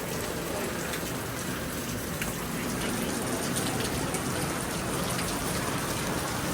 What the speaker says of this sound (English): Here it's raining, guys.